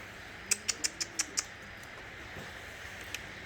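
Ardioza pigeons in a coop give a quick run of six sharp, evenly spaced calls or wing claps, then a couple of fainter ones, against a quiet background.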